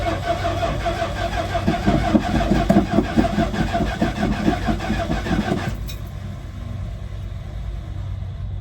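A truck engine cranks, fires up and settles into a steady mid-pitched idle, loud and close, then cuts off abruptly near the end, leaving a quieter rumble in a garage.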